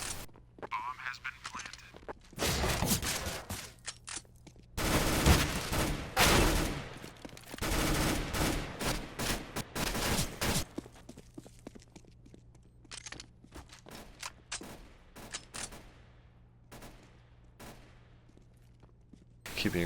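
Bursts of Counter-Strike gunfire, including P90 fire, come in several loud rapid volleys separated by quieter stretches, with a steady low game hum underneath.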